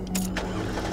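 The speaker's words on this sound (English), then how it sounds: "I gotta go and start the car up in order to charge the phone" A car engine turns over and catches, a brief cranking burst settling into a low steady rumble, close by with no talk.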